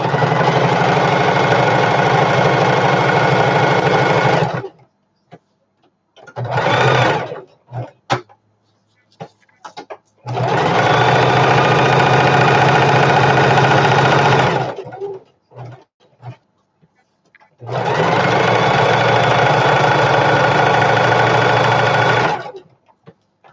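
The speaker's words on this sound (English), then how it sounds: "That's that top stitching down the seam." Sewing machine topstitching down the seam of a fabric storage bin, three long steady whirring runs of about four to five seconds each, separated by pauses with short bursts and clicks, loud and close.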